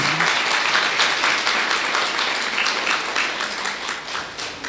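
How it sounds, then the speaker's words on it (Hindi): Audience applause at a spiritual yoga retreat gathering, steady dense clapping from a large crowd that carries on throughout and fades slightly toward the end. "ताली बजाओ ना भाई"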